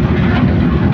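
A diesel engine that has just had its fuel pump bled runs in a continuous, steady, loud rumble with no breaks and no voices over it.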